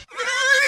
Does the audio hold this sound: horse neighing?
yes